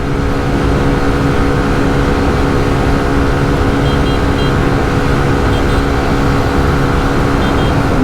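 Two 125cc motorcycles, a Hero Xtreme 125R and a TVS Raider 125, drag race side by side in fifth gear, their engines producing a loud, steady, continuous drone with a constant low rumble.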